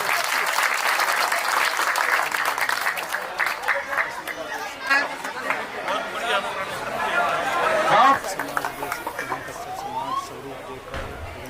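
Sustained applause from a crowd at a Jat community village gathering, dense clapping with a hum of chatter underneath, tapering off slightly toward the end.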